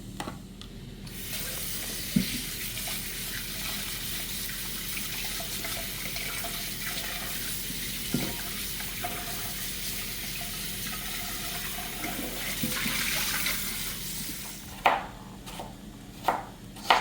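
Kitchen tap water running steadily as ingredients for Jamaican escovitch fish are washed, a continuous close hiss with a few small clinks and handling knocks, ending with some splashing and rattles.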